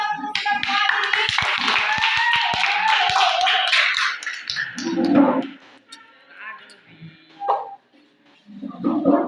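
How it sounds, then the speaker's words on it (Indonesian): Applause from a classroom of students, a burst of fast hand claps near the start over a busy, chattering room, followed by lingering voices and murmured talk. "Boleh kasih aplaus untuk kita semua hari ini?"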